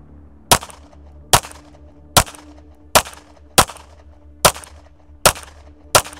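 Eight sharp shots from an Atlas EOS pistol fired at targets at an even, deliberate pace, each a loud crack with a short tail, separated by quiet gaps.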